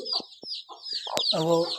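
Hens on a breeder farm cluck in short, close bursts, with one longer drawn-out call near the end and faint bird chirps in the background.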